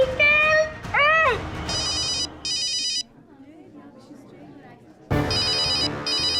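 A telephone ringtone trills in repeated electronic bursts, loud and close, with gaps between rings and a short stretch of quieter background sound in the middle.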